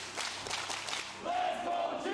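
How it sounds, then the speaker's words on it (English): Arena crowd at an LEC League of Legends summer playoff match, a loud roaring cheer that swells partway through, with a person talking over it. "you can hear the crowd"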